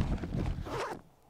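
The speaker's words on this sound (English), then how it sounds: "Someone actually opened up his backpack. I heard the zip." A backpack zipper is pulled open in 7 Days to Die while a body is searched. It is one quick, close, rasping zip lasting about a second, then near silence.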